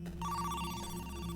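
A telephone rings in the video game Who's Lila, a steady electronic trill holding over a low hum for just over a second, with no talk.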